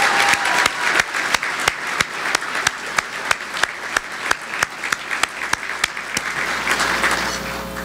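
A crowd at a Sailor of the Year ceremony gives a round of applause for sailors and their spouses, dense sustained clapping with sharp individual claps standing out, fairly near and steady.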